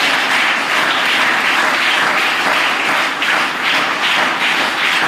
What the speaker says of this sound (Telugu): చప్పట్లు కొట్టి దేవుని నామమున మహిమపరుద్దాం.